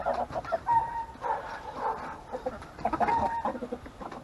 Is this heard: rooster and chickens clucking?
yes